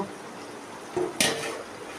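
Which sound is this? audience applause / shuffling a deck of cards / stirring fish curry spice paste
stirring fish curry spice paste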